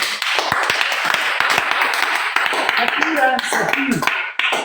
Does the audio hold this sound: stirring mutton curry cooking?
no